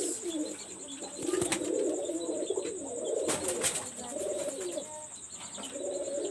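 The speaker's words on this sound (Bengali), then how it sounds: "এটা হলো একটা পিরিসপুরের ফকিরগুল কবুতর ফকিরকুলের একটা ফিমেল কবুতর" A female Fakirgul pigeon coos in soft, repeated low murmurs, close by, with a few sharper chirps and a brief rustle in between, over a quiet background hum.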